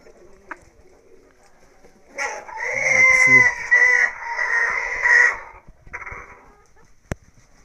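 Domestic geese of the Mamut breed honk loudly nearby in a drawn-out, raspy run of calls lasting a few seconds, with quiet gaps and a sharp click at the end.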